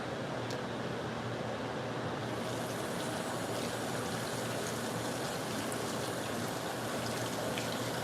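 A used bag of black activated carbon pellets rinsed under a running hose, giving a continuous, even rush of spraying water that stays steady throughout at close range, with no talking.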